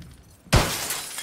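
A car window shatters in a video game: a sudden loud crash of breaking glass after a quiet start, followed by a long bright tinkle of falling shards.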